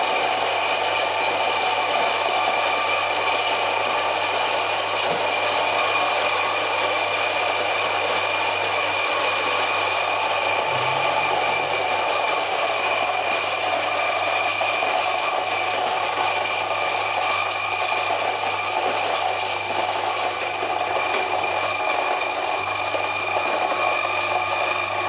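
A home coffee grinder runs steadily for about twenty-five seconds, grinding beans for home brewing with a continuous whirring, rattling drone that stays loud and close throughout, with no talking.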